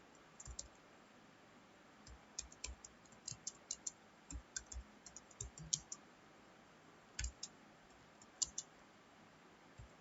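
Keys clicking on a computer keyboard while an HTML program is typed into Notepad, with quiet irregular bursts of taps and short pauses between them.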